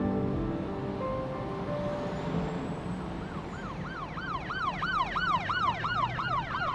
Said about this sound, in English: Uh-oh. Police sirens.